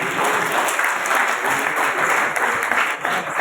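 An audience at a live event applauds steadily, a dense, even wash of clapping that holds at a constant level throughout.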